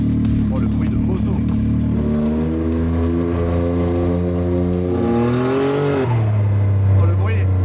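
A 400 hp buggy engine on a boost controller revs hard with a buzzing, motorcycle-like tone, loud and close, its pitch rising and falling over several seconds, with a voice talking over it.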